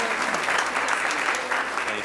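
Audience applause at an Oklahoma City city council meeting, steady dense clapping filling the room with a faint voice mixed in underneath.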